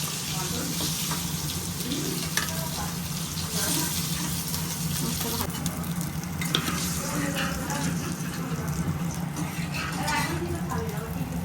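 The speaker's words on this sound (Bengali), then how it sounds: "মাছগুলো এইভাবে এক এক করে ভেজে নেব।" Hilsa fish pieces fry in oil with a continuous, dense crackling sizzle, overlaid by scraping and stirring noises that continue throughout.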